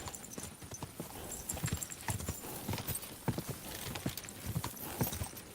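Horse hooves clip-clop in an even walking rhythm on a road in the video game Kingdom Come Deliverance 2, close and moderately loud, with a faint ambient background.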